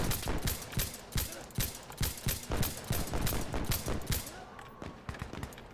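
Sustained automatic gunfire in the shooter Insurgency: Sandstorm, a steady stream of rapid, evenly spaced shots at moderate level with battlefield noise between bursts, thinning out near the end.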